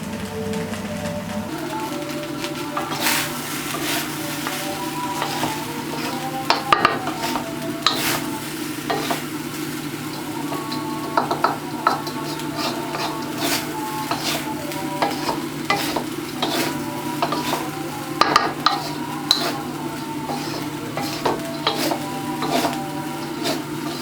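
Garlic and cabbage rice with a teaspoon of salt is stirred in a hot pan: a continuous sizzle under repeated scraping and clacking of the spoon, sometimes in quick bursts, close by and with no speech.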